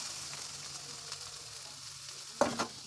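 Ingredients for a homemade chicken cheese pizza topping frying in a pan, a steady soft sizzle with a couple of louder stirring clatters near the end, no talking.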